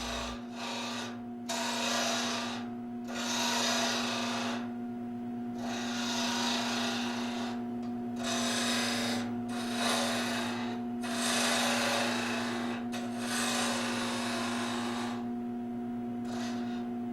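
A small 3/8 spindle gouge cuts wood on a lathe, shaping a capsule box base close to the chuck jaws: a constant motor hum beneath repeated rasping bursts of cutting, each lasting a second or two.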